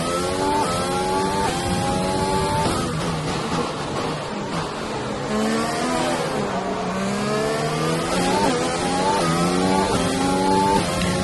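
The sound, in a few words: F1 race car engine in F1 2020 video game, Azerbaijan Grand Prix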